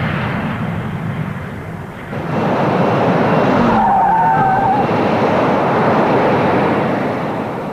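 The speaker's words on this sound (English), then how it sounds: "This Harrier survived what might be described as a heavy takeoff." A Harrier jump jet in a heavy takeoff mishap: loud, continuous roaring jet noise with a harsh skidding, scraping quality that swells and holds near and steady, no voices.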